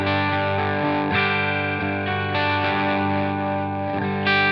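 Sustained distorted electric guitar chords played through a Line 6 Helix with chorus-like modulation, the tone's brightness swept down by an expression pedal, loud and continuous with a few chord changes.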